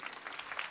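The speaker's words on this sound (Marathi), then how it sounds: "टाळ्या वाजवा ना जोरदार." Brief, faint patter of audience applause at a Marathi devotional kirtan, a short steady wash of clapping with no voices.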